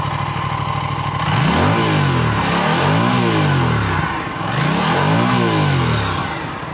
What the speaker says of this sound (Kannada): ಸೊ ಎಕ್ಸಾಸ್ಟು ಅಷ್ಟೇ ನೀವು ನೋಡ್ತಾ ಇರ್ಬೋದು ತುಂಬ ಸಖತ್ತಾಗಿ ಬರುತ್ತೆ. ಸ್ಟಾಕಲ್ಲೇ ತುಂಬ ಸಖತ್ತಾಗಿ ಕೇಳಿಸುತ್ತೆ.